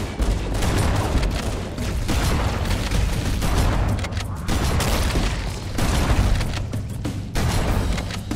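Heavy explosions and rapid gunfire boom continuously as fusion reactors are destroyed in Halo: Combat Evolved, a loud, dense, chaotic barrage with no talk.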